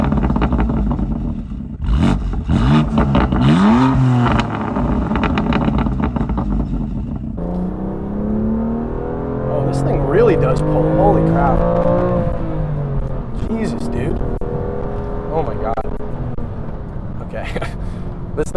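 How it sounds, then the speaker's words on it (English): A BMW M2 Competition accelerates hard, its exhaust building from a low rumble into a rising, burbly drone as the revs climb, with a pitch sweep near the middle and a voice talking over the engine. "I've kind of always been a fan of that farty, burbly noise that most people can't stand"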